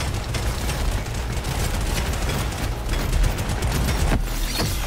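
Dense, continuous automatic gunfire from defensive turrets mowing down a swarm in Deep Rock Galactic: Survivor, loud and relentless with overlapping booms and shots, no talking.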